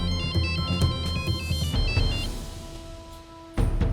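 A phone rings with a repeating electronic ringtone while a call is placed to a police station, a bright melodic pattern cycling clearly and loudly, then cutting off before a louder clunk.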